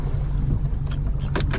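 A boat motor runs with a steady low drone on the water during a fishing trip, wind noise on the microphone, and a few short bright splashes or knocks near the end.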